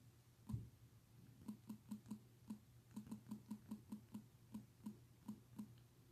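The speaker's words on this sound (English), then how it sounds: "let's type this in." Clicks from a computer keyboard, a quiet and close run of individual keystrokes in an uneven rhythm over a low steady hum, with no voices.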